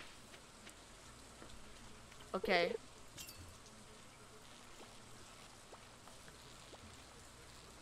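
Rain falling in the video game Stardew Valley, a faint, steady patter that hisses on throughout, with a short spoken word breaking in briefly near the middle.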